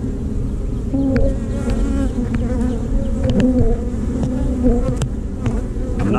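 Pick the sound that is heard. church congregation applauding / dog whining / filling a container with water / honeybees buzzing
honeybees buzzing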